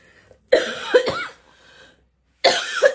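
Two separate bursts of harsh coughing, each a short cluster of coughs, close and fairly loud, with a quiet pause between them.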